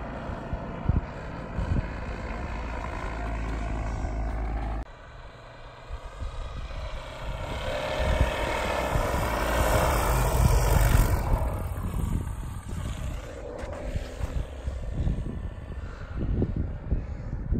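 A Kitfox light aircraft does a touch and go at a high mountain landing site, its propeller engine droning and rising in pitch as it passes, with wind noise and no talk.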